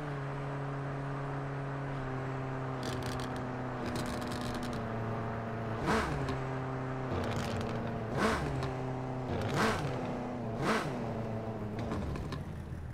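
Car engine in Car Parking Multiplayer revving in low gear, a steady droning idle with pitch climbing and falling, then several sharp bursts of revving near the end, no voices.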